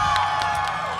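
A crowd at a drag convention cheers and claps for a drag contestant, with whoops and shouts rising over a steady wash of applause, loud and close throughout.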